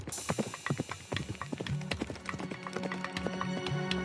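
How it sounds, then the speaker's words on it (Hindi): Horse hooves clip-clop in a steady trotting rhythm, a fairly quiet, close sound effect with no voices. "राजकुमार आदित्य घोड़े पर सवार होकर जंगल में बने उस पुराने किले की ओर बढ़ गए"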